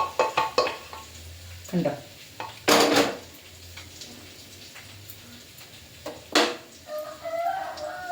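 A thick ladle mashes salted mango curry inside a metal pot, giving scattered knocks and scraping clunks with quiet pauses between them, close by, and a voice briefly speaks.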